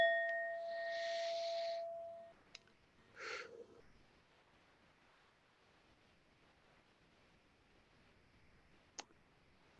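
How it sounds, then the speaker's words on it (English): Mindfulness bell struck in a quiet room, a clear ringing tone that fades away over about two seconds, then a softer single chime, followed by near silence with a couple of faint clicks. "Following the cue of the sound of that bell"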